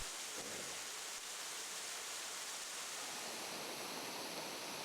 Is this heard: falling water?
yes